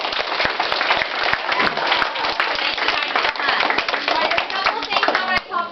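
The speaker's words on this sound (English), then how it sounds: "Let's give them a round of applause." An audience of kids at a self-defense demo and safety talk gives a round of applause, continuous brisk clapping that holds steady throughout with faint chatter mixed in.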